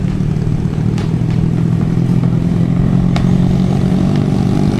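Three overloaded, air-cooled, Chinese-made motorcycles pass close by on a jungle farm road in Leyte, with a loud, continuous engine drone and some rattling clatter.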